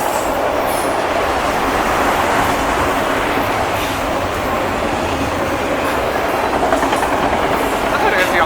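CSX freight train hauling Conrail auto rack cars rolling past nearby in a steady, loud rumble with rhythmic wheel clatter and faint squeal, while a person talks over it.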